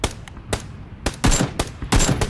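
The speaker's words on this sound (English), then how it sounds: "They may have shot him from the rooftop and the gunshots." Gunfire in the video game PUBG, sharp bursts of shots in quick uneven groups, loud and close, some in rapid automatic clusters.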